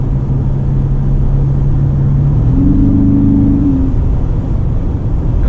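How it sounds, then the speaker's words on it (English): Steady low road rumble heard from inside a 2019 Lexus NX300 F-Sport crossover while driving, with a faint engine hum that rises in pitch briefly midway. "there's a little bit of road noise"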